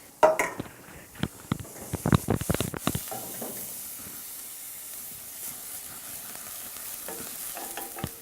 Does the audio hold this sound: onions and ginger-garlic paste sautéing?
yes